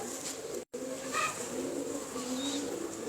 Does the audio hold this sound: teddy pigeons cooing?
yes